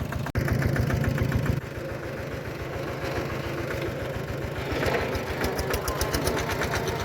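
A four-gear farm tractor idles on a rural outing, its engine chugging in a steady, rapid pulse that stays close and loud for the whole stretch, with no voices.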